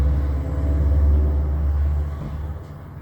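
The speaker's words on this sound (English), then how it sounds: "Those cars are less annoying than the aircon" Low, steady road rumble from cars passing outside, loudest early and then easing as the traffic thins, a continuous muffled drone with no voices over it.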